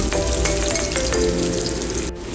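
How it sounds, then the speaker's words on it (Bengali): Paneer pieces fry steadily in hot oil for a sweet and sour paneer dish, a dense, continuous sizzle close by with faint scraping as they are turned, no voices. "পনিরগুলিকে উল্টে দিয়ে অপর পিঠটাও হালকা করে ভেজে নেব"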